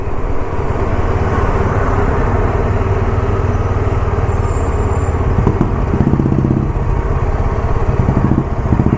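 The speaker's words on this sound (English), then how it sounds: "Kerala bike in front of us." Motorcycle riding on a road just ahead on a trip through Kanyakumari, Tamil Nadu, heard as a loud, continuous engine drone mixed with road and wind noise from a moving vehicle, no voices.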